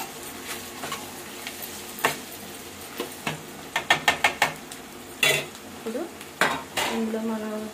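Tomatoes frying in a pan for a raw prawn and egg curry, stirred with a utensil: soft steady sizzle under a run of sharp clinks and scrapes against the pan, close and moderately loud, with no talk.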